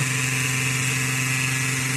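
A small electric motor whirs steadily with a constant high buzzing hum, close and unchanging throughout.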